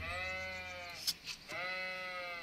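Sheep bleating in the Kingdom Come video game: a single drawn-out, wavering bleat, fairly close and clear, broken by a few short clicks near the middle, with no talk over it.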